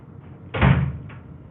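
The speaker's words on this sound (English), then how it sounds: "I'm gonna close the door." A door swings shut with a single solid thud and a short rattle, followed by a faint latch click, heard close in a quiet indoor room.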